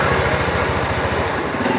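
A Yamaha NMAX motorcycle engine runs steadily at idle, a close, loud, even buzzing chug with no pauses.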